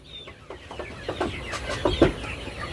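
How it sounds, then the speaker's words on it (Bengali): Several broiler chickens on a farm cluck in short, irregular bursts, with one sharper squawk near the end, heard close up over a low background murmur. "মুরগি একবার শব্দ দিয়েছে"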